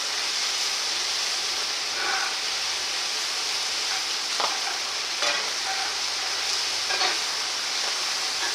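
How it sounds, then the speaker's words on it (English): Corn and onions frying in a pan, giving a steady, even sizzle with faint crackles and occasional light stirring clicks, close and alone. "Now the corn is starting to brown and the onions have turned translucent."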